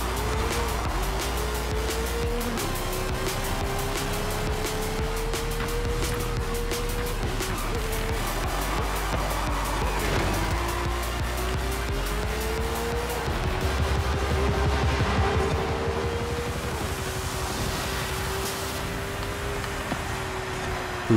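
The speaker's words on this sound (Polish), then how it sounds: "Niby hamuję dużo wcześniej, ale poślizgi są tak mocne, że mimo wszystko uderzam." Racing car in Forza Horizon 5 sliding hard under braking on a winter track, its engine note rising and falling continuously with tire skid noise throughout, loud and close with no voices.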